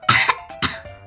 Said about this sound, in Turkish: bir öksür bakalım